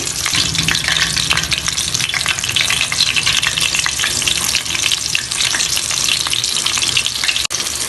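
Crackling, spattering sizzle of chicken legs frying in hot oil, loud and continuous at close range, with faint turning and stirring noises and no voices.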